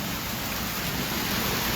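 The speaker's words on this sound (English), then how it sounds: "It's actually bashing down now with the rain" Heavy rain drums steadily on an umbrella on a Tel Aviv street, a dense, loud, unbroken patter with no pauses and no talk.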